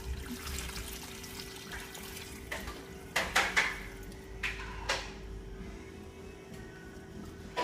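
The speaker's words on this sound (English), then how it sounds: "And then you put hot to boiling water. You want to fill it 1/4 of the tray of the pot up." Hot boiling water poured into a tamale steamer pot, splashing and gurgling with a few louder bursts and metallic knocks against the pot, over a steady background hum.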